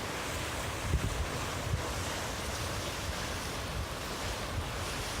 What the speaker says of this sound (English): I love how when the waves flash up in the water